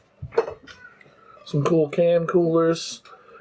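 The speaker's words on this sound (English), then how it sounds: "I hit him with a box of dishes." A box of dishes crashes and rattles, with pots, cutlery and crockery clattering in a loud jumble for about two seconds after a brief earlier thump, with no talking.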